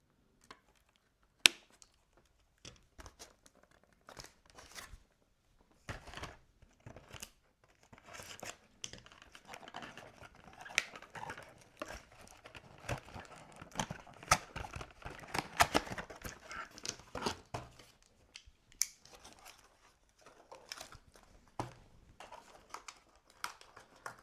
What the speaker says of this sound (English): We should cut the nylons.